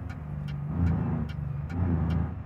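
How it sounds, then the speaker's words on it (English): A truck engine in the BeamNG driving game runs steadily with a low, rumbling drone that swells a couple of times as it revs, accompanied by faint periodic ticking. "The truck sounds incredible, to be fair"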